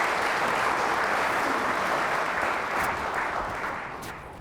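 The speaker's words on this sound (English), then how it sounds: "if we could give a round of applause for these gentlemen" A conference audience applauds the gentlemen on an investment panel, steady loud clapping filling the room throughout and tapering off slightly near the end.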